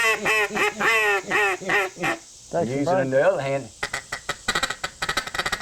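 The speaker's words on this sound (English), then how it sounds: "you can use your duck call, and you can be calling" A Primos duck call sounds a series of loud, rhythmic quacks, then lower drawn-out quacking and a burst of rapid clucky feed-call notes, with a voice briefly speaking.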